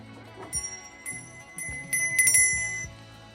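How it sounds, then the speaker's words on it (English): A small brass bell topped with a clown figure rings in a few light, bright strikes with a lingering metallic shimmer, close and fairly quiet over faint handling noise. "This is brass bell with the clown."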